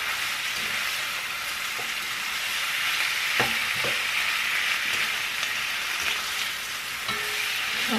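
Chicken adobo sizzles steadily in olive oil in a pan, a constant loud frying hiss with occasional stirring clinks and scrapes throughout.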